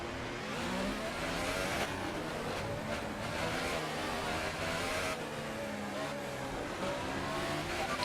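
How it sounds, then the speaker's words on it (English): In the F1 2018 racing game at Monaco, a car with a failing gearbox gives a dense, continuous engine roar with a grinding, crunching edge as it decelerates into corners, loud and close with no talk. "almost like that crunching together of gears and cogs"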